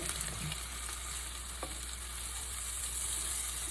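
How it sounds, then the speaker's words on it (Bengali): Chopped onions with green chillies and salt frying in oil for a sardine curry, a faint, even sizzle that holds steady throughout, with a couple of soft clinks from stirring. "এরপরে পেঁয়াজটা একটু ভাজা ভাজা ভাজা ভাজা না ঠিক একটু নরম করে নিতে হবে"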